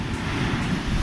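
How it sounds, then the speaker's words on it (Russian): Rough sea waves breaking along the shore at Sochi, a steady, dense roar of surf mixed with gusty wind buffeting the microphone, with no voices. "Море капец волнуется."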